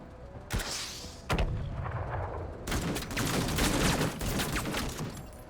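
Gunfire in the tactical game Menace, a few loud separate shots followed by a dense rattling burst of rapid fire with heavy booming echoes, with no talk.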